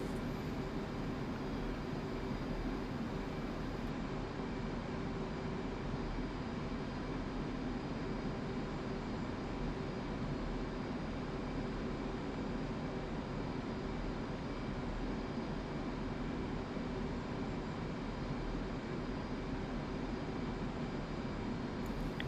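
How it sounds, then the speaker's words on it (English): A steady, unbroken engine drone comes from an aircraft flying low over Beirut in the DCS flight simulator on its Syria map. The sound stays even and continuous throughout, with no talk. "let's get pretty low, and we'll do some fun low flying over the city"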